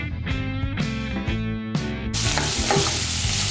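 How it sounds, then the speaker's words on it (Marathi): Onion being stirred and sautéed in hot oil for a restaurant-style butter paneer masala, with a steady frying hiss that grows louder partway through and a few clinking stirs in the foreground. "कांदा चांगला परतून घेऊया"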